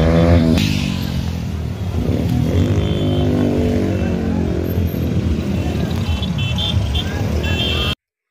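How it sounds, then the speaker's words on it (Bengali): Motorcycles in a bike rally circling a steel-town township, a loud continuous engine drone with rising and falling revs as machines pass close, a crowd murmur underneath, ending abruptly. "বাইক র্যালিটি গোটা ইস্পাত নগরী টাউনশিপ প্রদক্ষিণ করে।"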